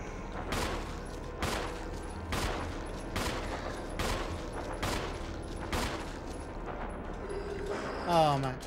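Repeated gunfire from the Resident Evil GameCube game, about seven heavy shots at a steady, roughly one-second rhythm, loud and close over a continuous game background, with a brief mechanical clatter at the end.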